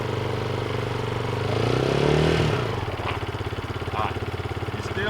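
A beginner's motorcycle engine revs high with too much throttle, a loud sustained roar that swells and falls before settling into a rough, chugging idle, close by with no talk over it.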